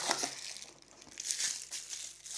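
Plastic packaging bags around a cutlery set crinkle and rustle softly and continuously, close by and faint, with no voices.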